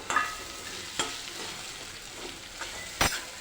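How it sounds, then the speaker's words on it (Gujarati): Crushed green peas stirred into sautéed onion in a hot pan for a pigeon pea and pea paratha filling, a steady sizzle broken by a few sharp scraping strokes of the spoon, close and alone. "હવે આપણે આ વટાણા ક્રશ કરીને રાખ્યા છે તે લઈ લઈશું"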